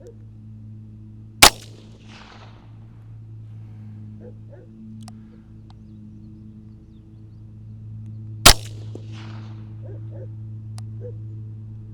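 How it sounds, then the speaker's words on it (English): Two sharp .22 LR gunshots from CCI Stinger 32-grain hollow point rounds fired through a Remington 597 rifle, several seconds apart, each a loud crack with a short ringing tail over a steady low hum. "I got a CCI Stinger 22 long rifle. I'm going to shoot it out of the Remington 597."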